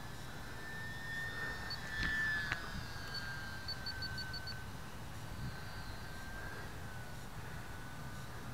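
An E-flite UMX P-47 Thunderbolt RC plane on its maiden flight drones overhead with a faint, thin electric motor whine that shifts slightly in pitch as it passes at a distance.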